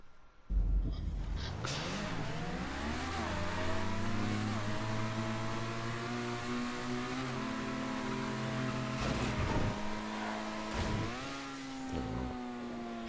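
Car driving in GTA 5 on PS4, an engine revving up and shifting through gears with rising and falling pitch, loud and close with few pauses, and a faint bit of talk underneath.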